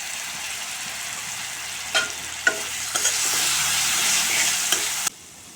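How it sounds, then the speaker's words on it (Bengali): A spice paste of turmeric, chili and cumin powder mixed with a little water fries in a pan with a steady close sizzle, broken by a few sharp scrapes of stirring. "এভাবে মশলা কিছুক্ষণ কষে নেব"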